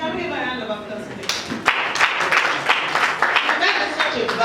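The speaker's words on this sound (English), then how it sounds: "Can we have a round of applause, please?" Audience applause at a singleness summit swells after a spoken request, a dense patter of many hands clapping at moderate distance, with a voice talking over the start.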